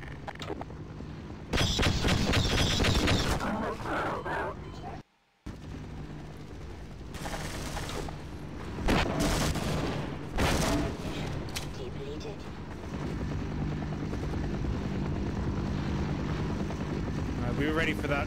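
A cannon fires in the video game Half-Life amid repeated bursts of heavy gunfire and mechanical clatter. Loud blasts punctuate a continuous rumbling background, and someone talks over parts of it.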